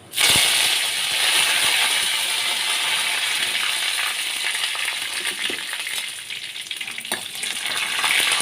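Curry leaves and dried red chillies sizzle in hot oil as tempering for ash gourd pachadi, a loud, continuous frying hiss sprinkled with sharp pops and crackles.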